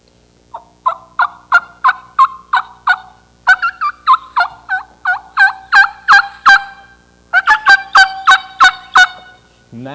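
A hunter blows a raspy triple inverted V mouth call to imitate turkey gobbles, giving loud, close, rhythmic bursts of rapid yelping notes in several runs with short pauses between them.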